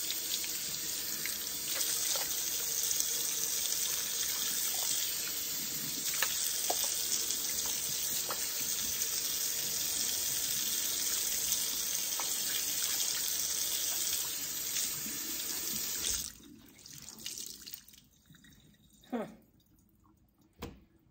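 Tap water runs steadily into a bleached kitchen sink, a constant rushing stream that stops near the end, leaving a few faint clunks and drips.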